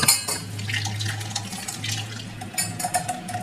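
Blended watermelon juice strained through a sieve into a container, giving a close, continuous liquid trickle and pour with light clinks of utensils against the dish, and no talk.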